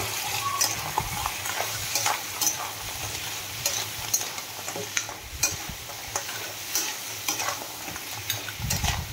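Crab pieces sizzle and scrape in a pan as they are stir-fried with salt and turmeric powder, a steady hiss with frequent utensil clatters and stirring scrapes, close and continuous.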